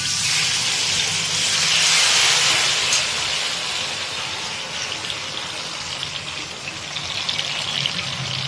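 Mashed tomato goes into a hot pan, likely in oil, over a high gas flame, giving a loud, steady, steamy sizzle and hiss that swells early, then settles and continues without talking.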